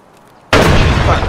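A video-game grenade bursts after being thrown through a window, a sudden loud broadband blast that cuts in from near quiet and rumbles on with a sustained roar.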